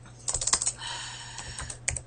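Quick bursts of keystrokes on a computer keyboard, a rapid cluster of clicks, a short lull, then a few more scattered taps, close and clear.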